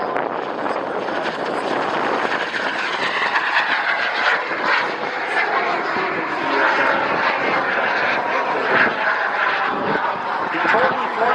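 A Glasair small propeller airplane drones steadily overhead at an air show, its engine roar loud and continuous throughout, with faint voices mixed underneath.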